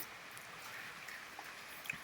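Rain falls outdoors on a Diwali evening, a steady, soft hiss of drops with no break and a few faint, slightly closer taps, heard alone.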